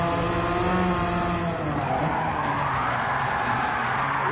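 Car sliding with tires skidding in Gran Turismo 7, a steady loud engine drone with a rising squeal of tire slip running through the whole stretch.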